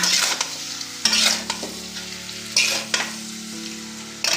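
Egg chowmein is stirred in a hot frying pan, with repeated scraping strokes and clattering bursts over a constant oil sizzle, close and fairly loud.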